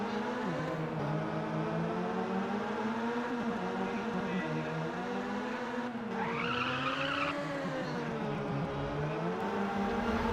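Car engine in the racing video game Ridge Racer Type 4, a steady loud droning whine that rises and falls in pitch with tire screeching layered on top, continuous throughout with no talk.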